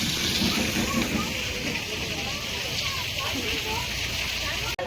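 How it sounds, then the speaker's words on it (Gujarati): Water pours steadily from a cow-mouth spout at the Droneshwar Mahadev temple in Gir Somnath, a constant close rushing and splashing running beneath a person talking throughout. "ગૌમુખમાંથી પાણી નીકળે"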